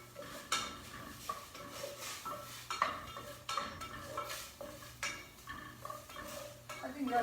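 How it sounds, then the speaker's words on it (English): Mushrooms added to a pot of cooking onion for miso soup, with a utensil stirring and clattering against the metal pot in repeated scrapes and knocks over a low background hiss. "So now I think the onion is almost done. I am putting some mushroom."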